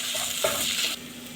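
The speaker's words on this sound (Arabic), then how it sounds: "شوحت البصلة مع الثوم" Chopped onion and garlic sauté in a pot of oil and ghee as the base for rice, giving a steady close sizzle with a brief stirring scrape partway through.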